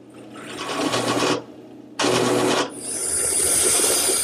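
A drill bores countersink holes in a wooden workpiece in two short bursts, one longer and one brief, followed by a steady machine hum, with no talking.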